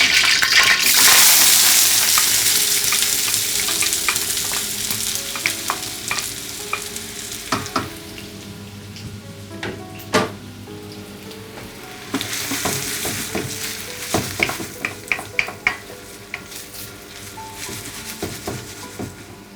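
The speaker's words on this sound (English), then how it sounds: "I'm going to keep the heat to medium to high. Just let the onion brown nicely." Three diced medium onions with small bay leaves fry for lamb karahi over medium-high heat, giving a steady close sizzle, and a spoon scraping and clacking against the pan comes in louder bursts toward the end.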